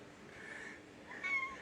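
A pet cat named Squeaky gives a couple of soft, faint meows indoors, the second a little higher and clearer than the first.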